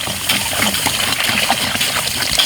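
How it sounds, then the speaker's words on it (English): Vinegar and water solution, about half a gallon of vinegar to three gallons of water, poured over a whole marinated pig to baste the skin, giving a continuous splashing trickle close by without pause. "By applying this water with vinegar, we're removing the sugars that were accumulated in the outside of the marinating"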